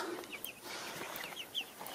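Bielefelder chickens cluck softly in short scattered bursts, fairly close, over a low background hiss.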